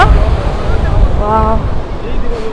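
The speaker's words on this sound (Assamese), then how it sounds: "বহুত বতাহ দি আছে" Strong wind buffets the microphone on a beach by the sea at Chandrabhaga near Puri, a steady rumbling roar under faint voices and distant background sound.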